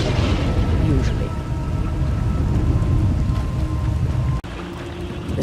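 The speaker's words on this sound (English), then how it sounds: "The storms are fierce today." A fierce storm in the game Star Wars: The Old Republic brings a steady, heavy roar of rain with low thunderous rumble, loud and continuous, briefly dropping out near the end.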